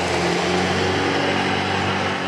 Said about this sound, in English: when you hear the truck go by, this is an available exhaust system, and it is changing the sound